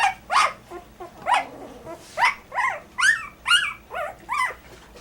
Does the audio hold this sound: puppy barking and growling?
yes